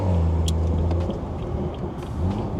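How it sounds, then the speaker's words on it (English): A stage 2+ tuned BMW 340i drives along with a deep, steady engine rumble close by, low droning tones under road noise and a few brief higher clicks. "I know y'all been hearing the car"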